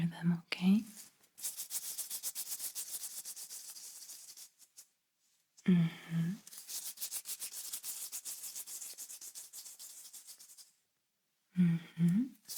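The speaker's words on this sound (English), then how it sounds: "Now instead I will be wiggling my fingers." Fingers wiggle and rub close to the ear in a quiet ASMR exam, with soft, dry crackly rustling in long bursts separated by silences and a brief low murmured voice between them.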